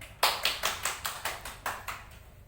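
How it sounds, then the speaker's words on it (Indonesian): A small group of primary school pupils clapping together in a classroom, about nine or ten bursts at a steady, slightly quick pace, fairly faint and unaccompanied. "tepuk tangan"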